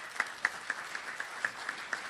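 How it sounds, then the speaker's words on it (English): A small group claps for Mark at a hockey coaches' convention, sparse and faint, a few distinct hand claps spaced roughly every quarter second against a quiet room. "so let's give Mark a round of applause."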